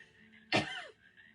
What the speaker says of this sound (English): excuse me, as I cough in your ear